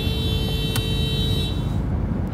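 A car horn blares in one long sustained honk over steady traffic noise, then cuts off near the end.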